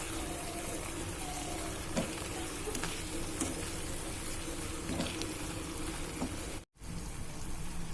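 Chopped tomatoes seasoned with salt and a spoon of chilli powder frying in a pan for a fenugreek egg curry, a soft, steady crackle and sizzle with scattered small pops and a brief dropout near the end.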